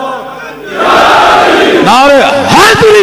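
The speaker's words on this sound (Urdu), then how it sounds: "نعرے حیدری" A large crowd roars a slogan in unison at a religious gathering in Gujrat, starting with murmuring and then swelling into loud, sustained massed shouting that rises and falls in two strong waves.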